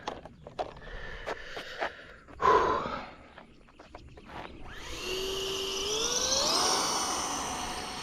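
A small RC plane running on a 1300 mAh battery: scattered clicks and handling knocks come first, then the electric motor spins up into a rising, sustained whine that stays close and fairly loud.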